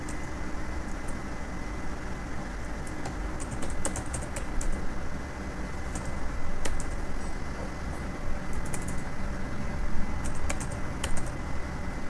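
Steady typing on a computer keyboard while a FlutterFlow portfolio website layout is built, continuous close clicking over a constant hiss of background noise.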